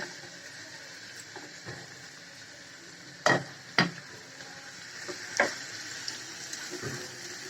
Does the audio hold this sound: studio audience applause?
no